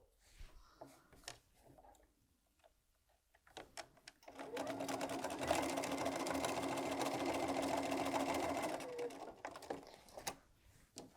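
A sewing machine runs in a fast steady whir for several seconds stitching quilt fabric pieces for a cushion, bracketed by quieter clicks and handling sounds before and after.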